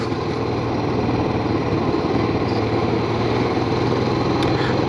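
Motorcycle engine on a long ride toward Chayatal in West Sikkim, a steady droning hum with constant wind rush and no pauses, close and fairly loud throughout.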